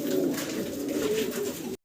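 A red-colored stesar pigeon pair coos in a low, continuous rolling murmur, close and steady for a couple of seconds before cutting off.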